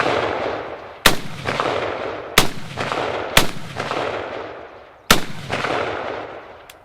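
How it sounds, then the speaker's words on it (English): A Johnson rifle firing 30-06 rounds, four sharp, loud shots spaced about a second or two apart, each with a booming report and a rolling echo that decays before the next shot. "we'll shoot 5 rounds each again out of the Johnson"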